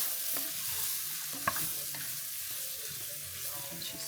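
A pot of beef bourguignon is stirred and tossed, giving a soft continuous sizzle with a few light scraping knocks, close and quiet, no talking.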